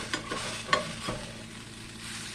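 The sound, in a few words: okra frying in a pan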